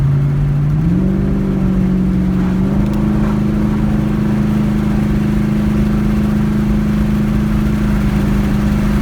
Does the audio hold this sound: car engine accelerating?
yes